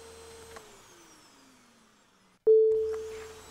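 A robot vacuum cleaner runs with a low steady hum, goes briefly quiet, then starts up again with a louder whirring motor tone that holds steady close by.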